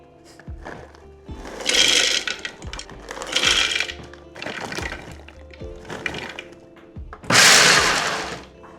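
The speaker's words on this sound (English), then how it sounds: "all of our nuts ground up" Pistachios and walnuts ground together in a food processor, about 18 ounces in a 2-to-1 ratio, loud and close, coming in several harsh, rattling bursts separated by short pauses, with the final burst the loudest.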